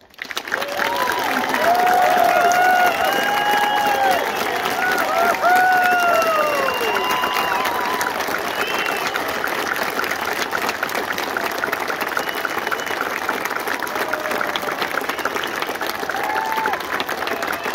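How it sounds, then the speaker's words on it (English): Sustained applause from a large crowd at a Retiring of the Colors ceremony at Mount Rushmore, steady and dense throughout, with a few whistles and cheers rising early on. "let us show them our appreciation for the sacrifice for our freedoms with another heartfelt round of applause"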